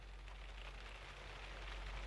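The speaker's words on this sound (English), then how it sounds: "Yeah, here comes the rain finally." Steady rain pattering on surfaces as a storm sets in over the south eastern hills of San Diego, a continuous broad hiss at low level with no talk.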